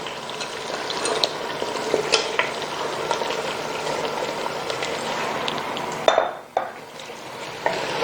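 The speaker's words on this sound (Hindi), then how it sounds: "थोड़ा भूनना है इसको।" Mutton pieces fry with garlic and ginger in a pot, giving a steady close sizzle under repeated scraping and clinking as the meat is stirred, with a louder clatter of the utensil against the pot near the end.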